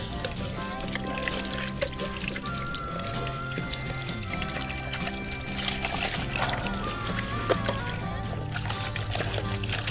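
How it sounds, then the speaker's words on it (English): Water is scooped and poured into a backyard well valve housing while the pump is off, a continuous splashing trickle with small knocks, fairly quiet and close. "scoop water to fill in the valve if there's like an air pocket or something"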